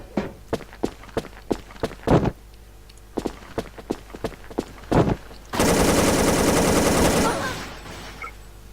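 Gunfire in the online shooter Wolf Team: a string of sharp single shots at a quick rhythm, a pause, another run of shots, then a loud sustained automatic burst about two seconds long, all close with no talk.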